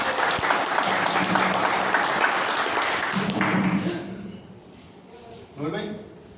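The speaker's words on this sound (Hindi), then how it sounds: "जोरदार ताली बजाओ इनके लिए सर" Applause at an office meeting, loud and sustained for several seconds, then fading out to quieter murmuring room sound with a brief burst of voices near the end.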